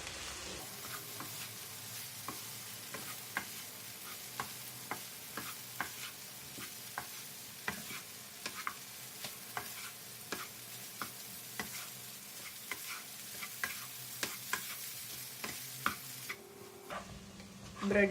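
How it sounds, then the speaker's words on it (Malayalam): Bread and egg masala stirred in a hot pan, a steady low sizzle punctuated by frequent sharp spatula taps and scrapes against the metal. "നമുക്ക് നന്നായിട്ട് മിക്സ് ചെയ്ത് കൊടുക്കാം."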